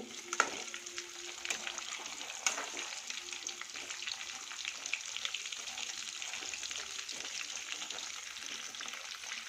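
Chicken kabab pieces fry in a hot pan with a steady bright sizzle and crackle, broken by occasional stirring scrapes, and no voice over it.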